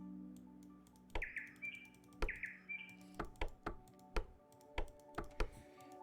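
A bird chirps in the puzzle video game Delete After Reading, brief high tweets mixed with a run of sharp, evenly spaced taps, moderately close and without any talking.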